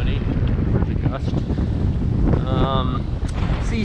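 A strong gust of wind buffets the microphone aboard a sailboat on open water in stormy weather, a loud continuous roar with water and hull noise beneath it.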